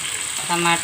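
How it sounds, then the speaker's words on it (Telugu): Ivy gourd pieces drop into hot oil with frying onions and chillies, giving a short burst of sizzling that swells partway through, with faint talk underneath. "ఇప్పుడు దొండకాయ ముక్కలు వేసేస్తున్నాం చూడండి"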